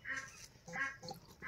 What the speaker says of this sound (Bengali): এই হাঁস ডাকিস না